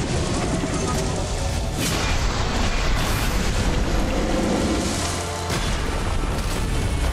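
A loud, rumbling explosion in Kena: Bridge of Spirits with sustained booming and crackling debris, dense and continuous throughout without a clear pause.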